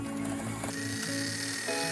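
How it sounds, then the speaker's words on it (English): A sewing machine winds a bobbin with a steady mechanical whir and a ticking, ratchet-like rattle. The motor pitch shifts a few times over a short, close, fairly quiet stretch. "So now I'm just gonna wind that bobbin."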